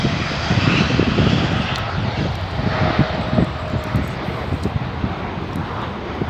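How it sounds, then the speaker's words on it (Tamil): Scoot airliner from Singapore arriving at Sydney Airport, heard from a lookout near the monitoring tower: a loud, steady jet engine roar with wind buffeting, sustained throughout and gradually easing, no talking. "இன்னும் கொண்டு வருது ஃப்ளை ஸ்கூட்டர் சிங்கப்பூர்."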